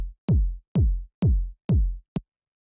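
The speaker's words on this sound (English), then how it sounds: "It's a kick from the 909 drum machine." Five punchy kick drum hits from a 909 drum machine with deep, booming low-end thumps, evenly spaced and loud, the last one shorter and clipped.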